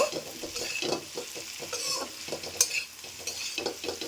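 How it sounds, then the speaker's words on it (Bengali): A spoon stirs spice powders, including dried chilli, coriander and other ground masala, in a frying pan for a papad curry. Repeated soft scraping sounds run over a low sizzle, close and fairly quiet, with no talking. "এরপর ভালো করে এটা নেড়ে নেব,"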